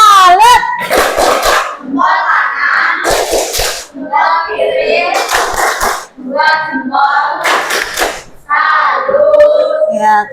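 Fifth-grade pupils in a classroom perform a rhythmic salute clap, voices chanting in unison between sharp bursts of group hand claps, loud and close, repeating in patterned phrases.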